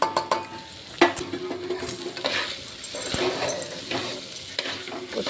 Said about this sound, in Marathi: छान फिरवून घ्यायचं थोडं